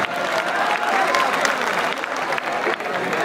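Loud, dense audience applause at a university poetry gathering, continuous clapping filling the hall throughout.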